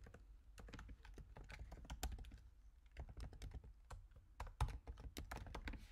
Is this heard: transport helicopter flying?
no